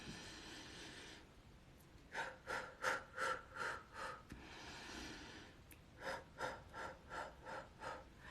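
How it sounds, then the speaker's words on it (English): Deep rhythmic breaths during a prana breathing exercise: a long hissing exhale, then a run of about six short forceful puffs, a steady breath, and another series of quick sharp exhalations, close and fairly loud with no talking. "So I want you to breathe in prana."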